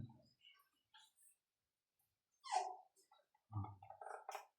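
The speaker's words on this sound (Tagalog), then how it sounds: "sumunod din yung asong pa na matanda, naririnig ko eh" An old dog gives a few short barks and whimpers in a quiet setting, with gaps of silence between the bursts.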